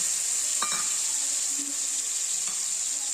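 Garlic paste and tamarind are stirred in a hot, sizzling pan while making pickle, a constant bright frying hiss with a few soft spoon scrapes and clinks against the pan.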